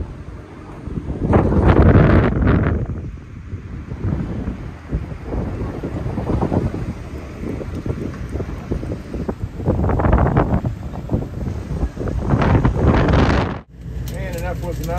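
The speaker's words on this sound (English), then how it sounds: "Lake Havasu at sunset with the storm blowing in." A storm blowing in over Lake Havasu at sunset brings strong gusting wind that buffets the microphone in loud, surging waves for most of the stretch, with water sounds beneath before it cuts off abruptly near the end.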